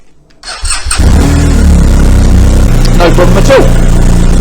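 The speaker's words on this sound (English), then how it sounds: "And now the bike's running" A BMW R1250R motorcycle engine cranks and catches after a fresh battery install, then settles into a loud, steady idle close by, with someone speaking briefly over it.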